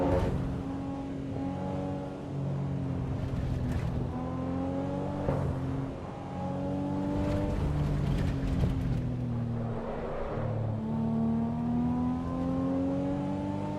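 A race car engine in Assetto Corsa EVO drones and climbs in pitch under feathered throttle, rising through several gear changes with short dips between shifts, steady and close with no talking.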